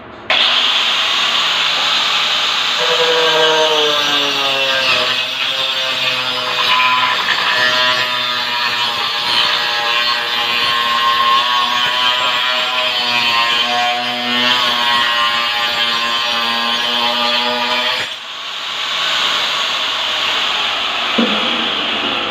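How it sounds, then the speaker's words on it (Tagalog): A circular saw running through 3/4-inch plywood, a steady loud motor whine with a shifting pitch as the blade cuts, lasting most of the span before cutting off near the end. "ipapakita ko sa inyo ang pagpuputol ng gamit ang circular saw"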